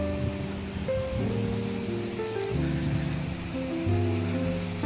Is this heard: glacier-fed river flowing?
yes